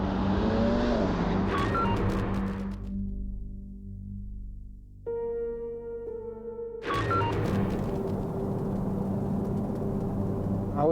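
A car on a highway accelerates to overtake behind a truck, its engine roaring loudly up close, dipping into a quieter lull with a faint tonal hum, then surging back as the vehicle sweeps past.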